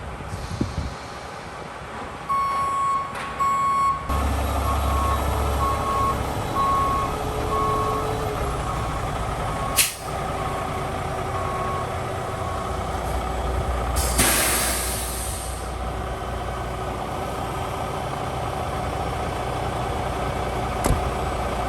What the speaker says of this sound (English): We pulled the dump truck out.